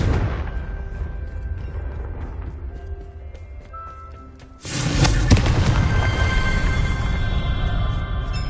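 A fire-spell explosion in Hogwarts Legacy bursts loudly at the midpoint with a sharp broadband blast, then a dense crackling, rumbling tail, following a quieter stretch of ambient game sound.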